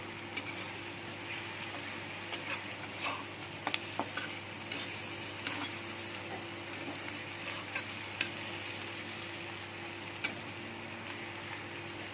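Potatoes sizzle and fry steadily in a pan for a small-fish chorchori dish, with a continuous close hiss broken by occasional stirring scrapes and pops, no talking.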